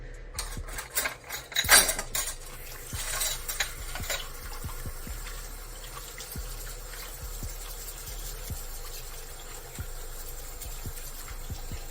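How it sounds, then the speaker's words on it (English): Esthetics implements being washed in a container of hot water, with light metallic clinks and ticks of tools against each other over a steady background hum, one louder clatter early on, no talk. "So I'm just going to actually put them all in here and wash them."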